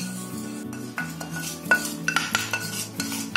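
Roasted karanji filling is scooped into a metal parat, with repeated metallic scrapes and clinks of a spoon against the dish, close and uneven in rhythm.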